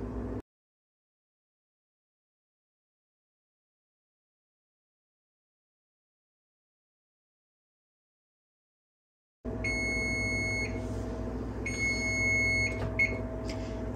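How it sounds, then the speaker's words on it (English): A kitchen timer beeps while yeast-roll dough rests, sounding as a loud run of repeated electronic beeps over a steady hum after a long stretch of silence. "That's my timer."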